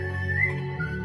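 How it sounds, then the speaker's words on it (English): A whistle is blown in one steady, continuous tone with a slight wavering pitch, fairly close and clear, with no talking over it. "Blow your whistle, blow your whistle"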